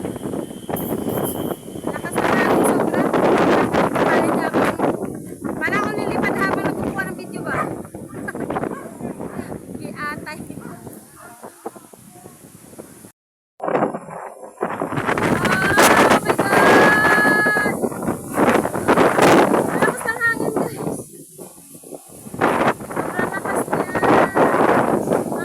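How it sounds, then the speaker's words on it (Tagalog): Strong typhoon wind roars and gusts continuously for most of the clip, loud and broadband, with brief rattles and a short near-silent drop midway before the gale resumes at full force. "sobrang lakas ng hangin guys"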